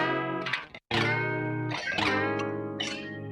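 Saturated music with harmonic layers and a brief dropout near the start, colored by a Culture Vulture distortion unit adding subtle grit to the tones, loud and continuous with no voices.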